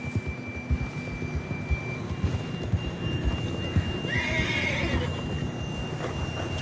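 A horse in the Red Dead Redemption 2 video game whinnies loudly and snorts, with the steady clip-clop of hooves underneath the whole time.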